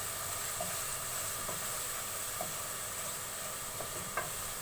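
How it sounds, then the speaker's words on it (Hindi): Spices with cumin powder roast in a pan, giving off a steady soft sizzle and hiss throughout, with a few faint clicks of stirring. "अब 2 मिनट तक हम भूनेंगे मसाले की खुशबू आने तक"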